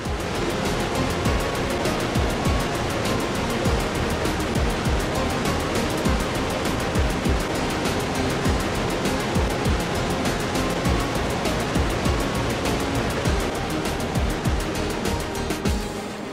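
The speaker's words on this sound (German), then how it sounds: "Direkt am atemberaubenden Wasserfall Kjosfossen darf man den Zug verlassen, um sich eine kleine Spritzwasserdusche abzuholen." Kjosfossen waterfall in Norway, beside the Flåm railway, roars as a steady, loud, broadband rush of falling water, continuous and close throughout with no pauses.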